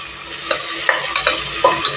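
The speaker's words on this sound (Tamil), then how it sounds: "ஒரு பச்சை மிளகாய் போட்டுறேன் கொஞ்சம் ஒரு கொத்து கருவேப்பிலை போட்டுறேன் போட்டு நல்லா வதக்கி விட்டுக்கலாம்" Green chili and curry leaves are sautéed in hot oil for mutton bone soup. A steady loud sizzle runs throughout, punctuated by a few sharp spoon taps and scrapes against the pan.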